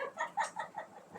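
A chicken clucks in a quick run of short, rhythmic notes, close and fairly quiet, with no voices over it.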